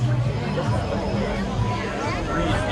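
Crowd of people chattering at Disney's Animal Kingdom theme park, a steady babble of many voices close around, with one nearer voice standing out over the hubbub.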